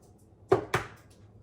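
Two thin-shelled eggs crack in quick succession, a pair of sharp, close taps about a quarter second apart, followed by quiet.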